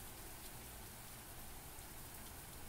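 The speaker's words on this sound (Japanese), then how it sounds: "雨の音以外は何も聞こえない" Rain falling outside a window in the Japanese video game Alice's Daughter, a soft, steady hiss of drops, faint and even throughout with no speech.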